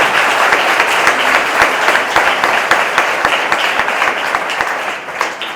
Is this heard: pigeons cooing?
no